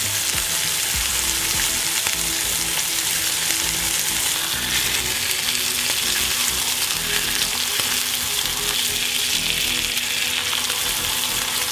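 A thin piece of fish fries in a pan with a loud, continuous crackling sizzle, steady throughout, with occasional small pops and no voices.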